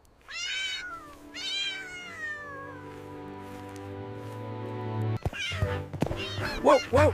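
A small kitten mews several times in high, drawn-out cries, a pair near the start and a burst of quicker calls near the end, over a steady low hum and rustling nearby.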